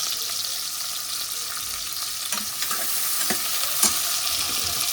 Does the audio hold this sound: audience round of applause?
no